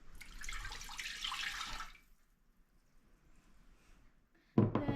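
Water poured into a container for a homemade kosher dill pickle brine, a steady splashing pour for about two seconds, then quiet, followed by a sharp clunk near the end.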